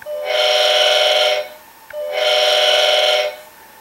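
A Soundtraxx Tsunami model train sound decoder sounds its horn in two long, loud, close blasts separated by a brief gap, each a steady multi-tone chord.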